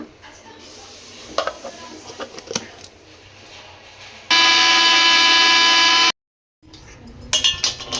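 A mixer grinder blends spice paste for egg palak paneer masala in one short, loud whirring burst after soft clinks of kitchen utensils, then cuts off abruptly.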